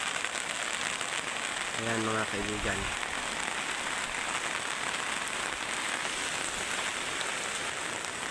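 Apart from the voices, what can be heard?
heavy rain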